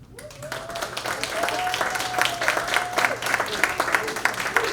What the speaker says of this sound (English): I do not need an applause like that